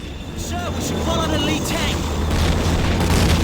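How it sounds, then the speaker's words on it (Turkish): Mortar fire explodes in the Call of Duty 2 video game, a dense, continuous rumble of booms and low blasts with a rising roar, while someone talks over the battle. "Şu an havan topu atışının içinden geçiyoruz."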